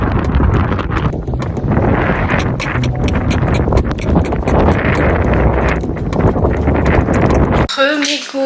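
Horse hooves clip-clop steadily during a ride in Hurghada, Egypt, a loud rhythmic beat under gusting wind against the microphone, ending in a brief abrupt cut.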